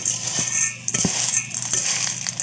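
Gamecock conditioning feed with oats being stirred and mixed by hand, giving a steady scraping rattle with scattered clinks and taps, fairly close and without talk.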